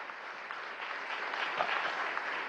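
Audience applause at a Venezuelan state award ceremony honoring cultural figures, a steady dense wash of many hands clapping, moderately loud and continuous with no talk over it.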